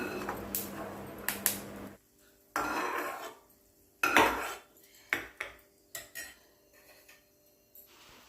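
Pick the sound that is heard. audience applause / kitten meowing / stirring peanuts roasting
stirring peanuts roasting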